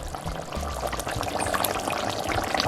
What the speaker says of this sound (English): I'm just gonna add a little bit more water.